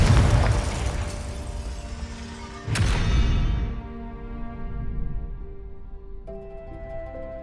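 The Confringo blasting spell exploding in the video game Hogwarts Legacy: a sudden booming burst over game ambience, followed by a ringing, fading tail and softer tonal effects.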